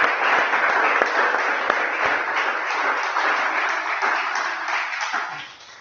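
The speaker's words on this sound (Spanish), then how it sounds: "Haga un aplauso al Señor ahí." A church congregation claps in praise to the Lord, a steady, full round of applause with a few sharper individual claps, fading off at the close.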